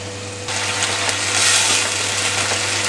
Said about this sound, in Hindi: कीमा को हम इतना भूनेंगे कि इसका कलर चेंज हो जाए